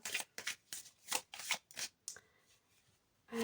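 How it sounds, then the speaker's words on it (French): A tarot card deck is shuffled close up in several quick, crisp riffling bursts, then falls quiet before one last soft flick. "Bon, je vais recouvrir."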